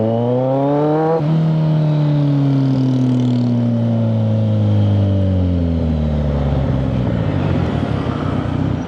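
A car engine revving and accelerating loudly nearby in road traffic near Malolos, Bulacan, pitch rising and falling through gear changes, with steady traffic noise underneath.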